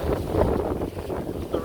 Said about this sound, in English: Nice and windy.